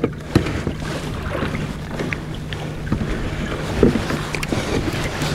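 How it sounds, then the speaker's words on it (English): Boat motor droning steadily offshore while kayak fishing, a continuous low hum mixed with wind buffeting and water splashes, with occasional bumps and knocks nearby. "this motor is awesome"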